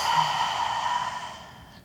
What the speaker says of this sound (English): Open your mouth, exhale it out.